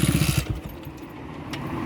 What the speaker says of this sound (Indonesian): sandal nyelah motor nih.